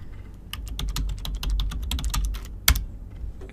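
Rapid, irregular keystrokes on a computer keyboard as a pin code is entered into a Google My Business form, close and clear, with one sharper key press near the end and no talking.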